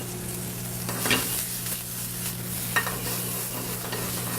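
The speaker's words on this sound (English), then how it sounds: "we're going to sauté them with the butternut squash" Vegetables sautéed with butternut squash in a pan, a quiet steady sizzle with a couple of brief stirring clinks, close but fairly soft.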